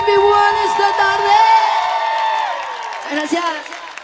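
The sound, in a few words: crowd cheering and shouting at live concert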